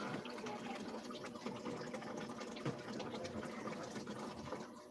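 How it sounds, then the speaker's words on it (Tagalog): Water pouring steadily into a washing machine tub during laundry, a continuous rushing, splashing fill that stays close and even throughout, with no talking. "nilagyan na natin ng tubig ang ating washing machine"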